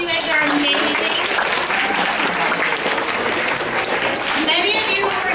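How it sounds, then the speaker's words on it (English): Seventh and eighth grade students applaud themselves at a school ceremony, with loud, dense, continuous clapping mixed with cheering and children's voices across five seconds. "Give yourself a round of applause."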